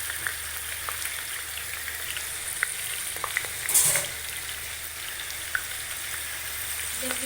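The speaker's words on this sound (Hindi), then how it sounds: "इसमें का प्याज डालना है।" Onions fry in a pan with a steady, close sizzle and a soft crackling hiss throughout, with one brief sharper spit midway.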